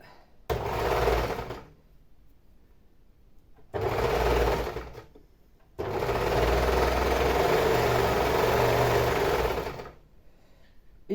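A sewing machine stitches a t-shirt shoulder seam in three bursts: two short runs, then one long steady whirring run, with quiet pauses between.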